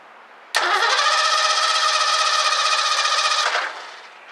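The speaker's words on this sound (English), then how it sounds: "then just hit the button and it should turn the engine over" A 1984 Ford Mustang GT350 convertible engine cranks over steadily for about three seconds, loud and close, with a rhythmic starter whir that cuts off abruptly without the engine catching.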